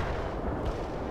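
Dense, continuous heavy gunfire and artillery bursts in the real-time strategy game World in Conflict during a town assault, a loud wall of rumbling blasts and shots lasting throughout with no pause.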